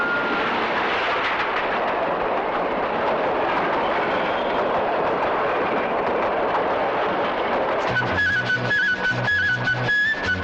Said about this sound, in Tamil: ரயில் வருது வேடிக்கை பார்த்துட்டு போ